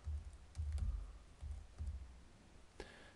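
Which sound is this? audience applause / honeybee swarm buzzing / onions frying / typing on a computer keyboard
typing on a computer keyboard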